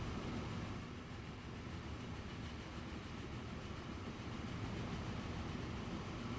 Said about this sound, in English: I just want to make sure this train fits nicely in the station